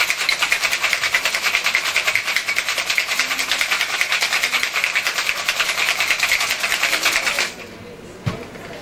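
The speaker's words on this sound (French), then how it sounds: "Pareil, bien shaker." Ice rattles hard inside a cocktail shaker in a fast, even rhythm for about seven seconds, close and loud, then stops abruptly, leaving a faint knock.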